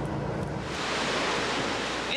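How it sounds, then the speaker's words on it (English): Ocean waves at sea seen from a cruise ship, the SS Norway: a loud, steady roar of surf and rushing water with wind noise, continuous and unbroken throughout, with no talk. "The waves pitch and roll just as they have for billions of years."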